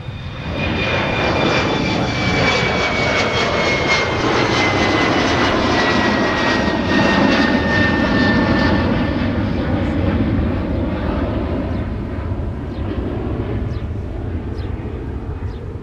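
A jet airliner taxiing at Minneapolis–St. Paul airport gives a loud, steady engine roar with a high whine that slowly falls in pitch, close by and continuous throughout.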